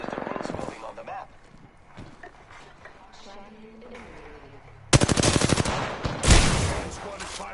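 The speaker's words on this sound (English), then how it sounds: "Opening fire on the enemy." Automatic gunfire in Apex Legends, starting faint and distant under a voice, then a loud, rapid burst of closely spaced shots near the end followed by a heavy blast.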